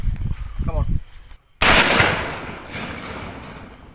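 A homemade gas-powered toy gun fires a single loud, sharp bang outdoors, and the blast decays over a couple of seconds. A voice talks just before the shot.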